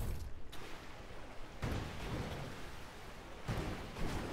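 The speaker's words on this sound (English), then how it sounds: "And it's raining, so we don't have to worry about planting." Rain in the video game Lightyear Frontier, a steady hiss of falling rain with several low, rumbling swells, like distant thunder, rising through it.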